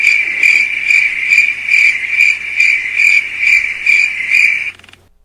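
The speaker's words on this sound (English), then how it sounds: "I said crickets. I want crickets." A cricket chirping sound effect plays alone, a loud rhythmic series of about ten evenly spaced trilling pulses that cuts off abruptly at the end.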